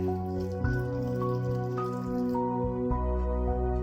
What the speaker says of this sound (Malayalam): ഇനി ഇതിലേക്ക് നമുക്ക് ഒരു കപ്പ് വെള്ളം ഒഴിച്ചു കൊടുക്കാം